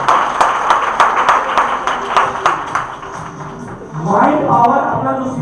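An audience at a network marketing business seminar claps together in a sharp, regular rhythm for a couple of seconds. A voice then speaks over the room and a few claps continue.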